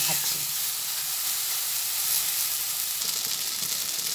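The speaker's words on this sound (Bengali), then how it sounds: "যুক্তি ফুল আর বেগুন একসঙ্গে ভেজে নিলাম" Eggplant and flowers frying together in a pan of hot oil, giving a constant close sizzle and hiss with faint stirring scrapes and a small swell in intensity near the end.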